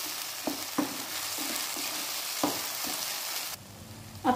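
Cashew and tomato masala paste frying in a pan for a chicken curry, a soft steady sizzle with several light clacks of stirring scattered through it. The sound drops away briefly near the end before another clatter.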